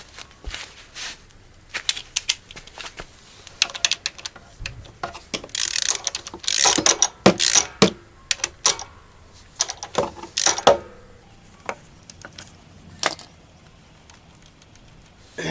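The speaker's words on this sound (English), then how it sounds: "I'll take the oil filter off." An oil filter comes off a Kawasaki KLR650 motorcycle in a series of close ratcheting clicks, metallic taps and scraping handling noises, irregular and bursty with short pauses between.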